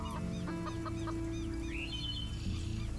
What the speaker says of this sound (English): Was I stuck on a chicken? Yeah, that's a strong chicken.